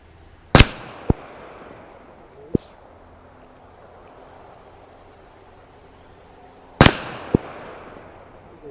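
Two sharp .380 pistol shots from a Spectrum handgun fired at a 50-yard target outdoors, about six seconds apart, each followed by a faint distant impact tick, with a soft pop between them.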